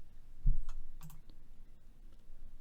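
Keyboard typing and mouse clicks while working in MuseScore notation software, a handful of quiet, sharp clicks and keystrokes spaced irregularly over a faint room background.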